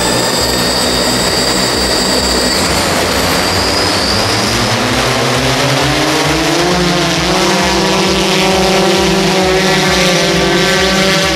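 A flying bathtub is lifted by six propellers of the type used on quadcopters but more powerful, mounted on its sides. The rotors give a steady, loud, close whirring hum that holds throughout, with the pitch slowly shifting.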